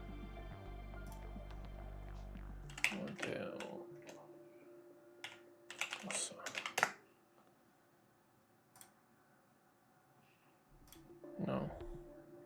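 Someone types on a computer keyboard in short bursts of close clicks, separated by pauses, with low background hum.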